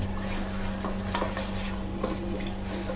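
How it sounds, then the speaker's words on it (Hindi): Whisked yogurt for mutton paya nihari is stirred and fried in a pan over a low flame, giving a steady sizzling hiss with soft scraping and stirring touches throughout. "अब दही डालकर हम 1 मिनट के लिए भून लेंगे"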